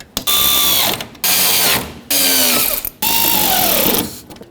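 A power driver runs 7mm screws in to reattach a wiring harness on a 2007-2010 Chrysler Sebring, with four loud whirring bursts of about a second each, separated by brief pauses.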